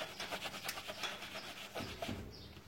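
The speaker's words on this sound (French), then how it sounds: "Je vais prendre mon éponge gratte." A scouring sponge scrubs a thick layer of diluted grease, giving a continuous rough rubbing and scraping with rhythmic back-and-forth strokes, close and moderately loud, with no talking.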